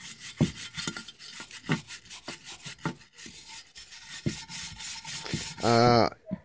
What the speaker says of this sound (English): Just take your time scrubbing all this.